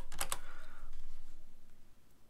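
Soft keystrokes on a computer keyboard, a quick burst of two or three clicks near the start and then quiet room tone, close and fairly faint.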